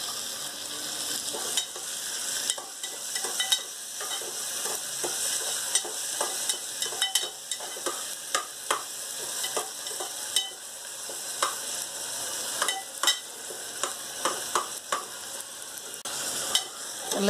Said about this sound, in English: Let the tomatoes cook for some time.